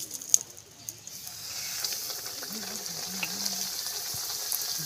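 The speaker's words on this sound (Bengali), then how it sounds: "এবার একে একে তেলে ছাড়বো।" Aloo paratha slides into hot oil and fries with a soft, steady sizzle that builds after the first second, with a few light clicks and a faint hum beneath.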